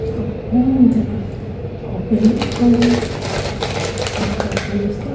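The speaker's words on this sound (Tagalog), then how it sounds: "Mga ibon." Birds call in short, low, cooing hoots, several spaced through the clip and fairly close, over a steady background hum with some clattering.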